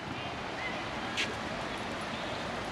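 A river flows beneath a bridge in a park in Pamplona, heard as a steady broadband rush of water with some wind, continuous and moderately distant, with no clear speech.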